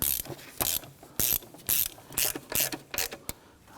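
A ratchet snugs down the knock sensor bolts on a 2017-2020 Hyundai Elantra 2.0L four-cylinder engine, giving short bursts of close, rapid clicking in an uneven rhythm, about eight strokes.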